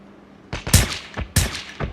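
Two sharp sniper rifle shots in a video game, about 0.8 seconds apart, each a loud crack with a brief decaying tail, close and alone without talk.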